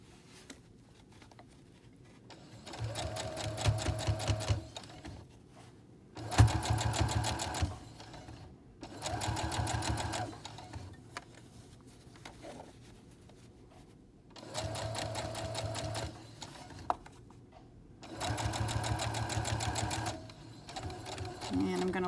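Sewing machine stitching a fabric face mask in short bursts, each running a couple of seconds with pauses between, fairly close and clear.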